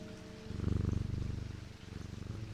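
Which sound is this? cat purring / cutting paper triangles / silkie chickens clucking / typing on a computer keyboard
cat purring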